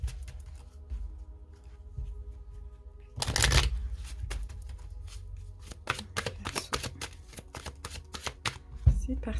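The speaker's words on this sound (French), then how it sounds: "Donc on va bien mélanger." Oracle cards are shuffled in quick riffled bursts, a loud flurry followed by a run of crisp slaps and flicks, close by in a quiet room.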